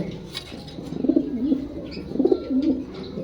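Racing pigeons give two distinct throaty cooing phrases nearby, rising and falling, with light background rustle between the calls.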